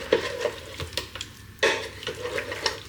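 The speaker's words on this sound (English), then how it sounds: "give it a quick stir" A spoon stirring potato gratin in an air fryer dish, with irregular soft scrapes and knocks against the dish over a low bubbling sizzle.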